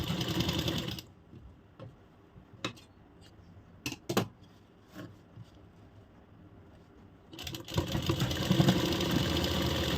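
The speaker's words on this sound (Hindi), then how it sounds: "दूसरी साइड इस तरह फैब्रिक को बराबर पकड़ते हुए सिलाई कंप्लीट" A sewing machine stitches Banarasi suit fabric for a party-wear kurti, whirring loudly at the start, then falling quiet with a few clicks and taps before starting up and running steadily again.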